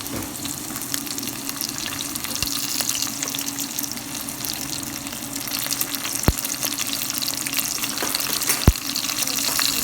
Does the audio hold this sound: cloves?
yes